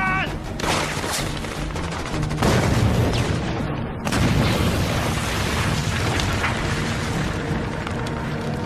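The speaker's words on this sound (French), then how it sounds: "Grenade!" A grenade explosion in an action film lands as a loud booming blast among dense battle gunfire, with a sustained roaring mix of shots and rumble throughout.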